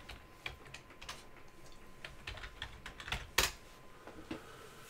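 Computer keyboard keys clack as a terminal install command is typed, a quiet irregular run of close tapping with a few sharper strokes and no talking.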